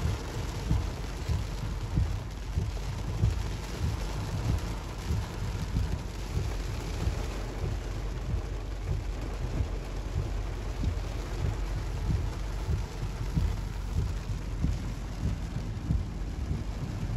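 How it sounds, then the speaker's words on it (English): Steady heavy thunderstorm rain patters against a car window with a constant low rumble, a dense continuous storm wash with no voices. "I like the way the little raindrops lick on the window."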